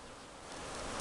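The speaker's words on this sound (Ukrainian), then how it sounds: "Бджоли літають слабо." A dense, continuous buzzing drone of bees flying weakly in cold weather at an apiary, swelling slightly louder over a second.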